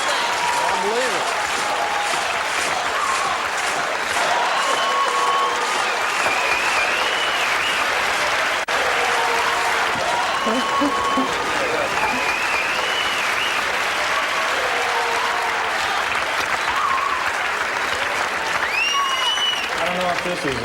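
A live theatre audience gives Joe Bob Briggs a long, steady round of applause on stage, a dense, unbroken clapping that keeps the same loudness for about twenty seconds.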